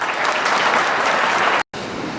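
A crowd at a Congress political rally applauds to welcome a former Maharashtra chief minister, dense steady clapping that cuts off abruptly near the end, then resumes briefly.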